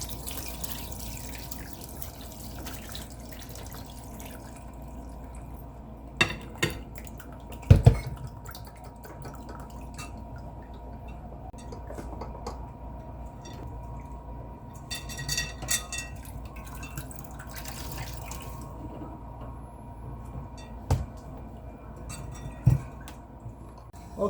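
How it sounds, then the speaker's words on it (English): Bitter leaf for a spicy Liberian dish being washed and wrung out by hand, with water dripping and splashing in a sink in scattered, fairly quiet bursts and a few sharper drops against a low background. "she washed it, she wrung it out like you wringing out clothes, and she did it 4 times"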